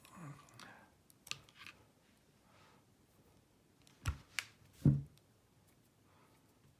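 Wire snipped with cutters while installing a Mad Hatter Guitar Products Luminator electronics system in a guitar, giving a few sharp, close clicks and snaps in an otherwise quiet workspace.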